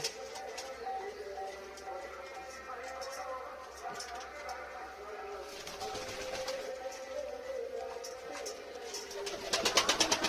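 Lakka fantail pigeons coo in soft repeated low calls from a loft housing new chicks, heard close with a person talking over them.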